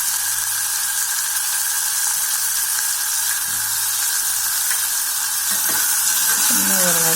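Kohlrabi sizzles and crackles steadily in a hot pan, a constant frying hiss with faint clinks of stirring near the end.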